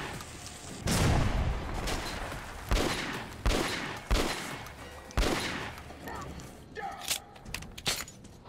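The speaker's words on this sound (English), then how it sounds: "Which is why I'll shoot you one more time in the head." Gunfire in Metro Last Light Redux, several sharp, loud shots spaced irregularly with ringing tails and clattering impacts, close, mixed with someone talking.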